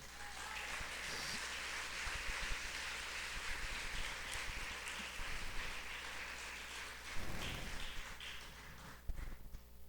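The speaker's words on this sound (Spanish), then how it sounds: "Dele un aplauso al Señor." A church congregation applauds in worship, a steady, dense wash of clapping that fills the whole stretch at an even level, with a few louder bursts near the end.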